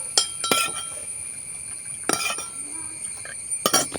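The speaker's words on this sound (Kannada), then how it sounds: "ಜೇನುತುಪ್ಪ ಸರಿಯಾಗಿ ಅದರ ಜೊತೆ ಬೆರಿಬೇಕು ಚೆನ್ನಾಗಿ ಕಲಸಿ ಬೆರೆಸಿದ್ರೆ ಆಯಿತು" A spoon stirring honey into a home cold remedy in a glass, clinking sharply against the sides in three bursts of quick taps with quieter scraping between.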